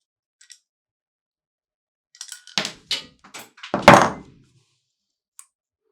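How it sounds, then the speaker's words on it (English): Sig P365 grip module taking a magazine release: a few sharp plastic and metal clicks and thunks clustered together in near silence, with faint ticks before and after. "And once it's in, clicked, you have your magazine release in the firearm."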